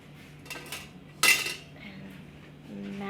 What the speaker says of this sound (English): mash our onions and our potatoes together